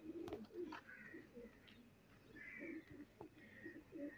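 Soft, low coos of an Indian pigeon repeat in short phrases over a quiet outdoor background near the Pakistan-India border, with a few faint higher chirps between them.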